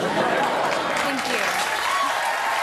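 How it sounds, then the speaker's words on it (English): Late-night talk show studio audience applauding, a dense continuous wash of clapping with voices faintly audible underneath. "Don't applaud"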